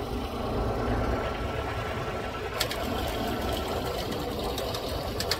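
Small engine on a Liquid Rage summer broadleaf weed-control sprayer kit running at a steady idle, a dense continuous low rumble with fast rhythmic chatter, close and loud throughout with a few brief clicks.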